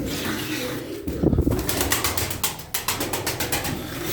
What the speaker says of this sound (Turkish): Kanat sesi falan mükemmel.